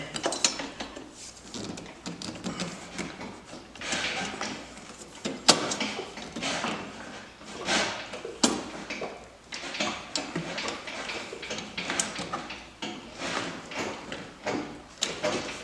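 A bulkhead brace side plate and bolts being fitted onto the A-arm of a Ski-Doo Gen4 snowmobile, producing close, irregular metallic clicks, scrapes and knocks as the parts are worked into place.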